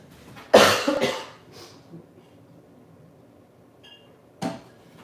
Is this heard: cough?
yes